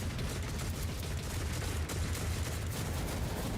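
Gun turrets fire in the Warhammer 40K Rogue Trader video game, a dense, sustained barrage of rapid shots and booms that fills the whole stretch at high loudness.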